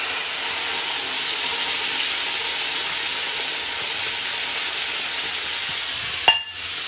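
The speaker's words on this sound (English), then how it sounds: "you want to basically fry this and cook it for 5 minutes before you add your rice in" Pepper mix for jollof rice frying in a pot, a continuous loud hiss and sizzle close by, ending with a brief clatter or knock near the end; no talking.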